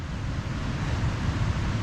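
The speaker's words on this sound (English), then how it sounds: "This river is raging like crazy." A river at peak snowmelt on the Pacific Crest Trail near Pinchot Pass roars in a dense, constant rush of churning water, loud and unbroken, with no voices.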